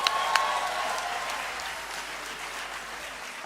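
An audience at a university cultural evening applauds a performer, a broad steady wash of many hands clapping that tapers slightly toward the end.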